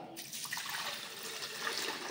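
Water pours into a blender for mango and guava juice as a continuous, splashing stream. The pour is close and alone, with no talk, and lasts about two seconds.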